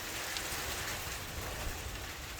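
Steady rain falls evenly with a dense, constant patter and no pauses, heard outdoors near young birds.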